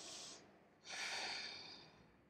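A yoga student holding a side plank draws in a long audible breath through the nose and lets it out, two close breathy rushes separated by a short pause, with no talking.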